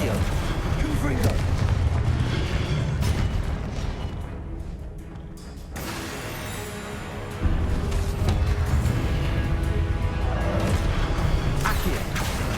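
Repeated Confringo blasting-spell explosions from Hogwarts Legacy boom through a dense, loud game mix, with a brief lull midway before the blasts resume.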